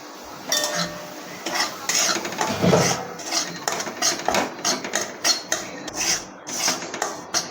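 Semolina being roasted in a pan and stirred steadily, with a rhythmic scraping and rasping of the spoon against the metal, close and fairly loud, in repeated strokes with no talking.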